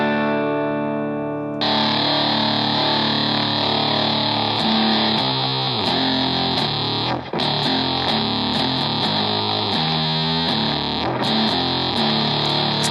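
Electric guitar played through a Big Muff fuzz model on a Boss GT-1000, thick saturated sustained chords and riffs with heavy distortion, loud and continuous after a clean opening note.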